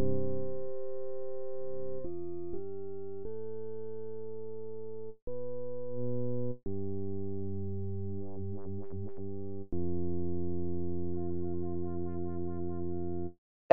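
Synthesized organ-like tones from phase distortion on Bitwig's Phase-4 synthesizer play as a series of sustained chords and notes, each shifting pitch, with brief pauses and a warbling passage midway.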